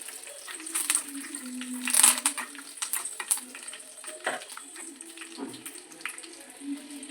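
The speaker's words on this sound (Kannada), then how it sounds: "ಕರಿಬೇವು ಜೊತೆಗೆ ಒಣಮೆಣಸಿನ್ಕಾಯಿನ ಹಾಕೊಂಡು ಒಂದ್ಸಲ ಫ್ರೈ ಮಾಡ್ತೀನಿ" Curry leaves and dried red chillies fry in a pan with a steady crackling sizzle, interrupted by brief stirring scrapes and clinks at close range.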